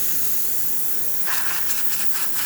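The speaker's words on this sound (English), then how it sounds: "Excellent steam coming out of the machine." A La Pavoni espresso machine's steam wand hisses continuously and close up, a steady broadband rush that turns harsher and more sputtering partway through, with no voices.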